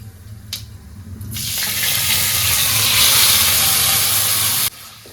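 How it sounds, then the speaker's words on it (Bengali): Green tomatoes hit hot mustard oil seasoned with five-spice, and a loud sizzle surges after a brief clatter, holding steady and close before cutting off abruptly near the end. "এবার আমি টমেটো এটা ঢেলে দিলাম"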